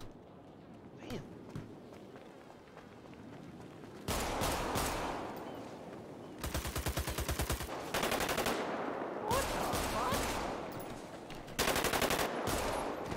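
Gunfire in the video game GTA 5 during a roleplay shootout in the mountains: loud rapid automatic bursts and single shots arriving in clusters, with quieter movement noise between volleys.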